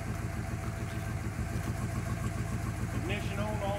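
A clutch-started engine runs loud and steady at a mid-pitched rumble throughout, close by, with some voices in the background.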